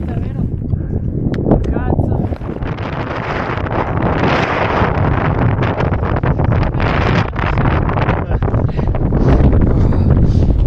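Loud, blustery mountain wind in the Dolomites near Cortina d'Ampezzo buffets the microphone in roaring gusts for the whole stretch, rising and falling without pause.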